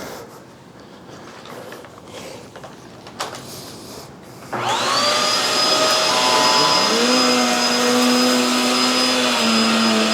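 A Hoover Tangle Guard vacuum cleaner starts up partway through and runs steadily over a rug with pet hair and dirt, a loud constant motor whine with a high tone that holds to the end.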